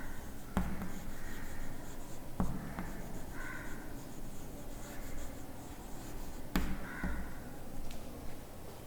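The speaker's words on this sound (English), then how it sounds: "Now I am going to write another one." Someone writes a sentence on a board during a grammar lesson, a steady quiet scratching with a few sharp taps where the marker or chalk meets the surface, no voices.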